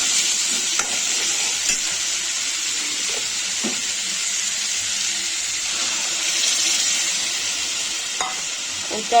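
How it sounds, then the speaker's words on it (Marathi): Onions fry with wet coconut paste, made from fresh coconut, coriander, ginger and garlic, for a Konkani fish curry: a steady close hiss of sizzling oil with scraping stirs, no talk. "हे पहा आपला कांदा फ्राय झालेला आहे त्याच्यामध्ये आपण ओलं खोबऱ्याचं वाटण टाकणार"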